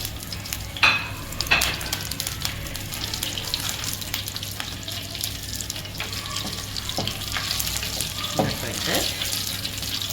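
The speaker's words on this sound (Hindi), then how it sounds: "जीरा डालते हैं, हींग डालते हैं, और थोड़ा सा चला लेते हैं इसे।" Cumin seeds and asafoetida (hing) frying in oil over a lowered flame, a steady close sizzle broken by scattered spoon scrapes and clinks as the spices are stirred.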